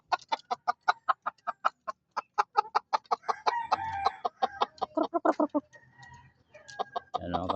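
Chickens, including a mother hen, clucking repeatedly in quick, steady bursts, close by, with a few louder squawks and some rustling in between; no talking.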